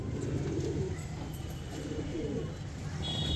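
Short-faced Modina and Naqabposh pigeons at a sale in Amroha give low, soft cooing over a steady background hum, continuous and close.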